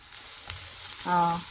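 Coriander and spices sizzle in a hot pan as a steady frying hiss, with a brief tap partway through and a short tonal hum near the end.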